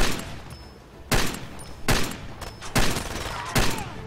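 Mounted machine gun in Far Cry 2 firing in short, sharp bursts, four or five loud volleys spaced about a second apart over steady game ambience.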